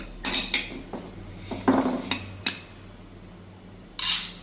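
Metal pots and utensils clank and clink in a home kitchen while dal is set to boil, a series of sharp close knocks and scrapes spaced irregularly, ending with a short burst of running water.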